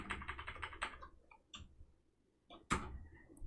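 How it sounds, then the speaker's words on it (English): Quick bursts of computer keyboard typing, a rapid run of keystrokes followed by a pause and a few isolated louder key taps, close and clear with no talking. "I'll just type it out."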